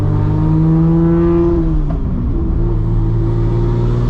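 A 2JZ-engined car running loud and close, with a steady low engine tone that dips briefly near the middle as the revs drop, then climbs back to a sustained drone with no talk.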